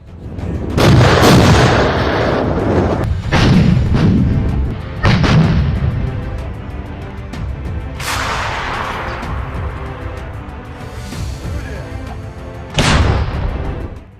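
Heavy artillery fire during an assault on Ugledar, with several loud booming blasts spaced a few seconds apart, each trailing into a long rumbling echo, plus a sharper report near the end.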